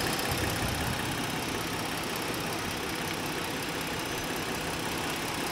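The 3.7 liter all-wheel-drive engine of a 2016 Ford Explorer Police Interceptor runs at a steady idle, a constant broadband hum and whir heard close up with no talking.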